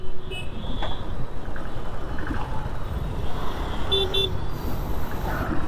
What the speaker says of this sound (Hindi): और शाम होते ही ट्रैफिक चालू हो गई